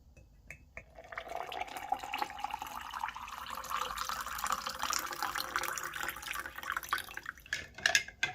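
Water poured into a glass to mix a pre-workout drink: a steady, close liquid stream runs for several seconds, with a few sharp clinks and taps toward the end.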